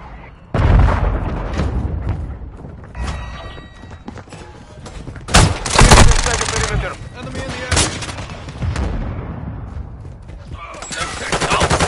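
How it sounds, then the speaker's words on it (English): Heavy mortar strike explosions in a Call of Duty match sound among continuous gunfire, with loud booming bursts near the middle and toward the end of the battle noise. "Hostile mortar strike incoming."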